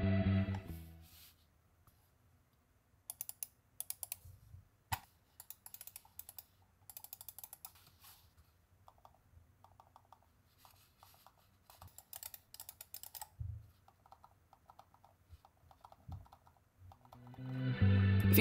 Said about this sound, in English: I'll go ahead and demonstrate me using the MX Master 3 versus the ProtoArc mouse so you guys can hear the click difference